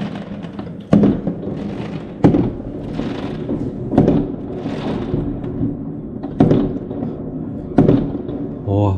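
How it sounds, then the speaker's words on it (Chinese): Fireworks exploding level with a high floor of an apartment building at dusk during the Lunar New Year season: repeated deep booming blasts every second or two, loud and close, over crackling rumble. "我家这个楼层啊，刚好就是烟火要炸开的楼层"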